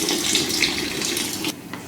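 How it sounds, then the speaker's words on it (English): About 710 millilitres of rainwater is poured into a bowl for baguette dough, a full steady splashing gush that stops abruptly near the end, with no talking. "I'm putting 710 mils, so this is rainwater"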